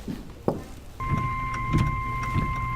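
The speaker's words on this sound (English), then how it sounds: "That's the sound of the National Weather Service telling you there's bad weather in the area." A steady two-tone National Weather Service electronic alert beeps continuously over low rumbling background noise, following a brief thump at the start.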